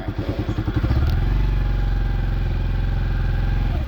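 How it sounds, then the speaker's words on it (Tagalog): A motorcycle engine sputters with a few rapid chugs, then catches and settles into a loud, steady rumbling idle up close. "Start natin ang ating motor."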